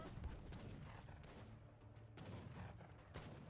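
Cannons fire in a 2v2 deathmatch grand final of a real-time strategy game, a dense run of loud booming shots overlapping one another, with a few sharper reports standing out near the start and end.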